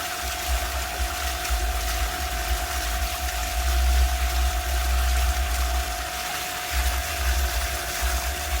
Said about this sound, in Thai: นี่ค่ะ น้ำตกไหลแล้ว